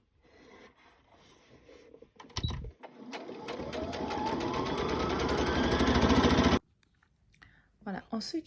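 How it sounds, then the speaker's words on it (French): A sewing machine topstitches along the edge of fabric for a sewn top, running steadily for about four seconds before stopping abruptly, with quieter handling sounds before and after. "on vient surpiquer au bord, donc juste ici"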